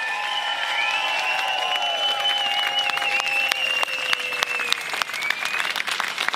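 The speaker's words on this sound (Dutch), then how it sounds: "ik wil een enorm groot applaus voor de militairen en oud-veteranen" Loud, sustained applause from a crowd at an outdoor commemoration on the Malieveld, The Hague, for soldiers and veterans, dense clapping with scattered whistles and cheers rising above it.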